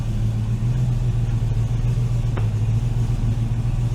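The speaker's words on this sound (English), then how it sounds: "Bit of a misfire going on." A TVR V8 engine running with a misfire, a steady low rumble held at a constant level with no revving, and one brief sharp blip partway through.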